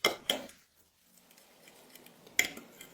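A utensil stirs eggs seasoned with salt, black pepper and curry in a bowl, making a few close, bright clinks against the bowl with soft scraping between them and no talk.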